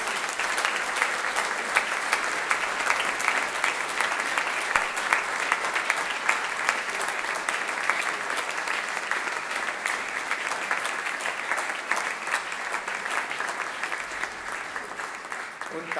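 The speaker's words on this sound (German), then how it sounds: "Der Applaus" Sustained audience applause at an awards ceremony honouring a musician with a certificate of honour, a dense steady clapping that fills the room at even loudness for the whole stretch, with no speech over it.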